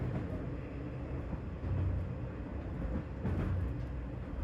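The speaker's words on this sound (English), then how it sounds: "They jumped on the first train out of Okayama, and Beary immediately got his camera ready" A passenger train on a rural line in Okayama, Japan, rumbles steadily along the tracks, a continuous low roar with faint rhythmic clatter from the wheels, heard from inside or close by.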